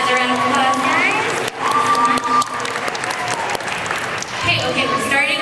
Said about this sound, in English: Another round of applause, guys.